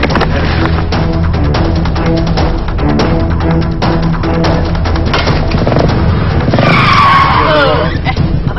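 A loud car engine roars with a long tire skid and squeal building near the end as the car's failed brakes leave it unable to stop, continuous and close.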